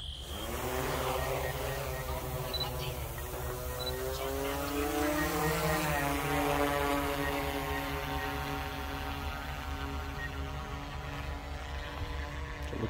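A DJI Matrice 30T drone on a mapping mission gives a steady, high propeller whine and buzz that rises in pitch as it climbs, sustained and moderately distant with no talk.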